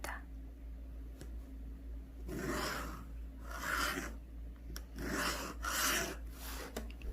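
A pencil drawing a smooth curved line for a headscarf pattern on paper, making soft, close scratching strokes that come in several rhythmic swells over a quiet background.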